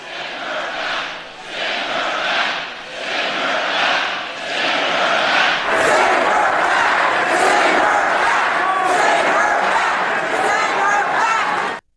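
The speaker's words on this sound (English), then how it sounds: "his crowd was chanting what he had been tweeting all week" A large crowd at a Donald Trump rally chants in loud rhythmic waves, the roar swelling and building into steady collective shouting before cutting off abruptly.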